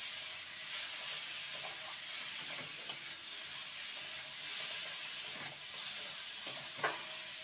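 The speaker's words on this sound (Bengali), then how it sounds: "পাওয়ার কমিয়ে কমিয়ে ভেজে নেব" Potatoes and pointed gourd frying in spices in a pan over reduced heat, a steady close sizzle with occasional stirring scrapes and clinks throughout.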